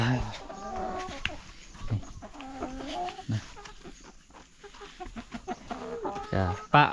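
Laying hens at feeding time, scattered nearby clucks and squawks in short bursts, with a person talking intermittently over the flock.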